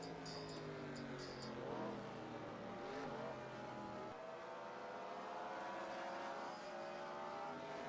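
Race cars from the NR2003 racing game circle Richmond under a caution flag, a steady layered engine drone with some rising and falling pitch sweeps as the cars pass.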